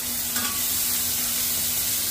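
Butter sizzling in a hot frying pan on a stove, a steady, close crackling hiss that holds evenly throughout with a brief brighter flare near the start.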